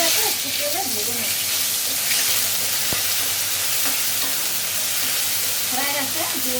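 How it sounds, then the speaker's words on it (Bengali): Raw cumin seeds fry in hot oil with a steady, loud sizzle that runs unbroken throughout, with faint stirring and a voice briefly audible beneath it. "কাঁচা জিরাটা একটু তেলে ভেজে নেব।"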